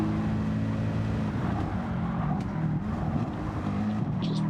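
A race car engine in the Gran Turismo 7 video game, a GT2-class car on track, drones loud and continuous with a low, rumbling tone that shifts slightly in pitch as it drives.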